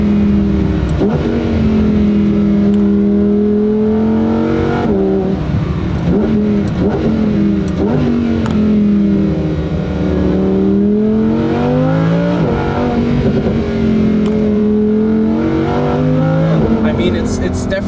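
A rear-wheel-drive Lamborghini Huracan EVO accelerates hard on a Black Forest drive, its engine note climbing through repeated gear pulls with brief dips at each shift, loud and close throughout.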